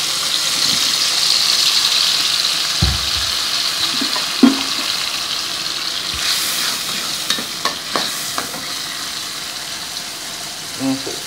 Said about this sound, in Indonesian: akan menumis bumbu yang sudah di blender